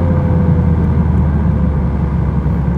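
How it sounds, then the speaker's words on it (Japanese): Honda Civic FK7 with a manual gearbox accelerating from third gear past 2000 rpm, a steady loud low engine drone with a faint rising whine throughout, with no break for a gear change heard, no talking. "スマートにギアチェンジをしていきたい。"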